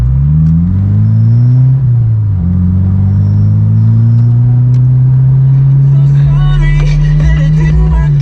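A slammed Honda S2000 engine revs steadily and loudly up close, its pitch climbing and dipping before holding a high sustained drone, with voices faintly underneath.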